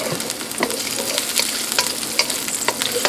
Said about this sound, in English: I'm getting the wok hot, and I went ahead and put some onions in